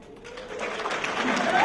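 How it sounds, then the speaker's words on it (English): Comedy club crowd clapping and cheering for the military, the applause swelling steadily and growing louder toward the end. "give our military a round of applause"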